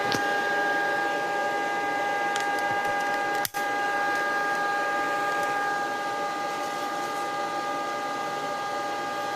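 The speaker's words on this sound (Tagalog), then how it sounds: "Ang lakas ng blower nito. Ingay." A steady, loud cooling blower fan in a Tosunra CA20 power amplifier under repair hums and whooshes continuously with a few faint tones, briefly interrupted by a short click partway through.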